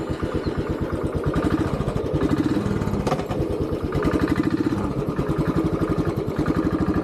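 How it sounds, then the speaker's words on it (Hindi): A Royal Enfield Bullet motorcycle engine idles close by with a steady, even single-cylinder thump that holds for about seven seconds and briefly swells once partway through. "पर चलिए मोटरसाइकिल शुरू करते हैं"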